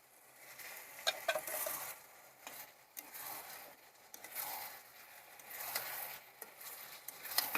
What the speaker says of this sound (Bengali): আমি 2 থেকে 4 মিনিট এটাকে ভালো করে কষিয়ে আমি এখানে কোনো ঢাকা দেব না, আমি এইরকমভাবে কষিয়ে নেব